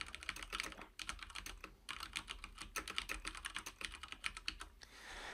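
Quick, uneven bursts of typing on a computer keyboard, close and fairly quiet, with clustered key clicks separated by brief pauses.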